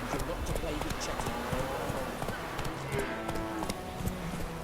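Roach, Geralt's horse in The Witcher 3, trots with steady clip-clop hoofbeats under ongoing voices and a busy game soundscape.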